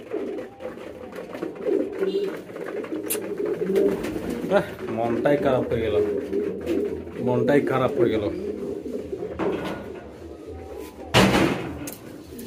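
A king pigeon coos in repeated low rolling phrases nearby while someone talks over it, and a sharp slam near the end breaks through.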